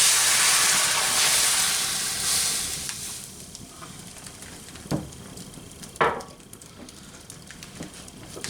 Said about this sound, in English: So we're going to add our brown ale to that